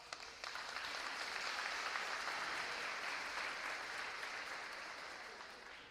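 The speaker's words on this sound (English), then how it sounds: "Give yourselves a round of applause." A crowd of graduating students claps for themselves at a high school commencement in Warren County, North Carolina, a broad, continuous roar of applause that swells early and then gradually tapers off.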